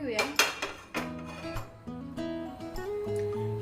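A metal pan is set down on a lit gas stove with a few sharp clanks and scrapes against the grate. A voice murmurs faintly underneath.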